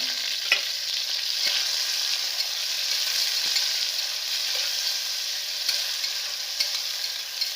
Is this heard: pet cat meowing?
no